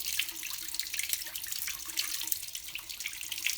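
A running tap splashes steadily over dyed fabric being rinsed in a sink, a continuous bright hiss of water with small gurgles, close and alone.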